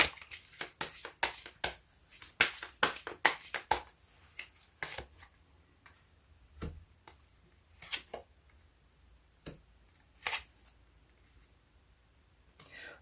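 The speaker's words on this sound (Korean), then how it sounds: "그 이유에 대해서 한번 좀 카드 더 뽑아보도록 할게요" Tarot cards riffled and shuffled in rapid papery bursts at first, then slower separate snaps and slides as single cards are drawn and laid down, close and quiet, with no talking.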